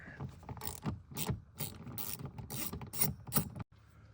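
A ratchet clicks in quick rapid bursts, close and crisp, as it backs 7 mm screws out of a Ford Fusion door panel, with a short pause near the end.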